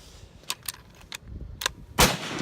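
Gunshots at an outdoor shooting range: several sharp cracks spaced irregularly, closing with a louder, closer blast, with no talk over them.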